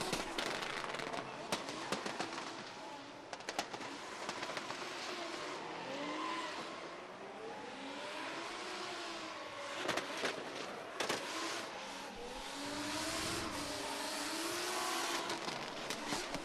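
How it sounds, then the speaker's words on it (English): Drift car engine revving at the Oman International Drift Championship 2025, a rough, loud roar with rising and falling pitch sweeps and sharp pops, sustained over about sixteen seconds under crowd noise. "It was just Ali revving the car underneath me."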